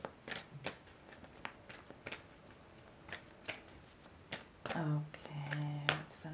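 Tarot cards shuffled in the hands, a run of quick riffling flutters and sharp card snaps spread across the clip. A voice talks briefly near the end.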